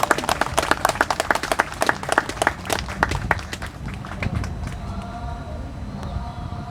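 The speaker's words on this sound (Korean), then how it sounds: "큰 박수로 모시겠습니다." An audience at a university rally applauds to welcome a speaker, with dense, rapid clapping that thins out after a few seconds and leaves sparse claps and room noise.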